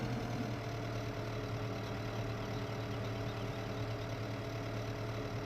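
A tractor engine idles in the Farming Simulator 15 video game, with a steady low rumbling drone held evenly throughout and no talking.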